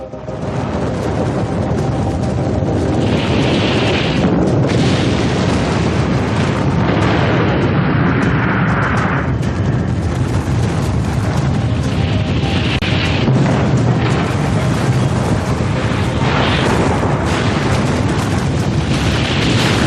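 A Russian nuclear bomb explosion: a huge, sustained roaring rumble with crackling bursts, loud and continuous throughout like a massive distant blast rolling on.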